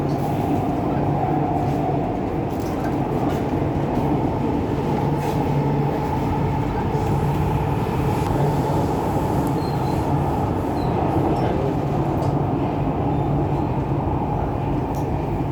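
Continuous loud rumble and rattle of a train running on the tracks, steady throughout with a faint high metallic whine above.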